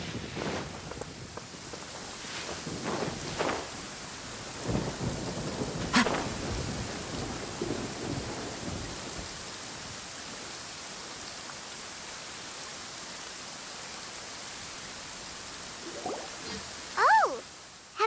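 Rain and rolling thunder in the Genshin Impact game world, a steady wash of rainfall with low rumbles through the first few seconds and a brief voice near the end.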